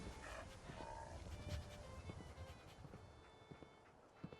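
The dog companion Dogmeat in Fallout 4 gives a few quiet barks and yips, with faint footsteps and game ambience underneath. No one talks.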